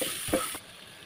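Eggs drop into a hot pan of onion-garlic paste with cinnamon, coriander and cumin powder for egg korma, giving a loud close sizzle with a brief stirring scrape before the frying quickly fades.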